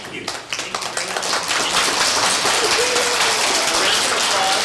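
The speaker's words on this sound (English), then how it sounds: "A round of applause" An elementary school audience applauds after a mural painting demonstration, with steady, full clapping that builds and holds throughout, a few voices mixed in.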